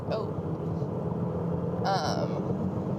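A loud car drives in traffic, a continuous low engine and road rumble droning steadily up close, with a brief brighter hiss from a passing vehicle midway and speech-like sound over it.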